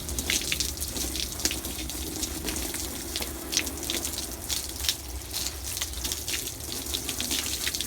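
A hose sprays a steady stream of water onto a horse's body, a continuous broad hiss and splatter with small irregular surges, close and constant throughout.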